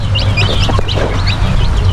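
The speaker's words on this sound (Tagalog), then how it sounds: "nagkakaibot yung inahin eh" A mother hen on a farm clucks and chirps in short high bursts over a steady low background hum, fairly close and continuous throughout.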